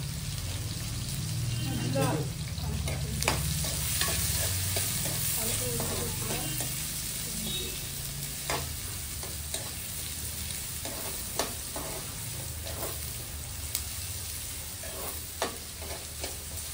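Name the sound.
onions frying in a pan for egg curry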